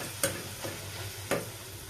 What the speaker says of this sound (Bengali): আমার সেই ছোট্ট মিনি কড়াইটাতে আমি এখন গরম গরম লুচি ভাজছি